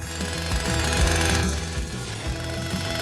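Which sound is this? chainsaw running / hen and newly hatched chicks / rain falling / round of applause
chainsaw running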